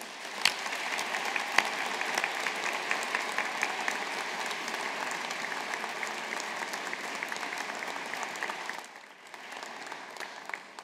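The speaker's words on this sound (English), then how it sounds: "show all of us our appreciation and gratitude with a round of applause" A graduation ceremony crowd claps steadily for about nine seconds, a dense and sustained round of applause that then thins out to a few scattered claps.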